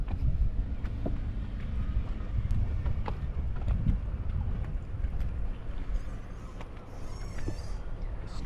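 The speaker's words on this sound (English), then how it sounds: "a lot of boat traffic coming out this way too" A low, rumbling drone of boat motors near a west end marina on Lake Pontchartrain mixed with wind buffeting the microphone, continuous and fairly loud, with a faint buzzing whine late on.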